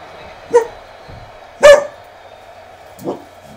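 A dog barks indoors at a neighbor pounding on a door: three separate loud barks, spaced about a second apart, close by against a quiet room.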